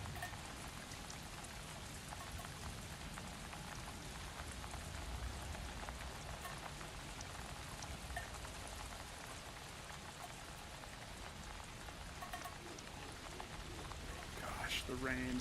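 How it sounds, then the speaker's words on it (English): Steady rain falls throughout the Alan Wake 2 game world, a dense, even patter on surfaces that stays at a constant level, with a brief extra splash near the end. "The rain is so cool with the haptic, because I can feel little pitter."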